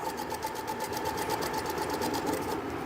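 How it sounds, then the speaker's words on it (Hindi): A sewing machine stitching dori piping onto cloth runs steadily and close, a loud even mechanical whir with a fast regular needle rhythm and no talking. "बिल्कुल धीरे धीरे सिलाई लगाओ"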